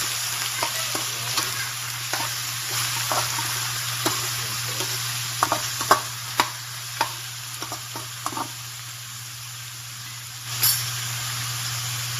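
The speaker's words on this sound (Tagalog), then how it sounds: "Ayan po, lagay natin ang chicken." Chicken for adobo frying in a pan, giving a steady sizzle under a constant hum, broken by scattered utensil clicks and stirring taps and one louder clatter near the end.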